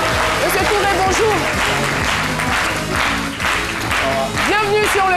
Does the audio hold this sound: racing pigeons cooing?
no